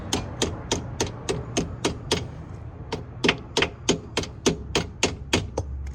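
A hammer striking a Honda Civic transmission pin to drive it into place, about twenty sharp metallic blows in a steady rhythm, close and loud, with a brief pause midway.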